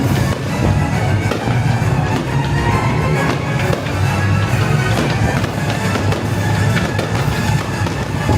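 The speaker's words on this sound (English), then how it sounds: "It was a good fireworks show" Fireworks show bursting above the sun deck of a Disney cruise ship, a continuous barrage of loud booms and crackles with no pause across the clip.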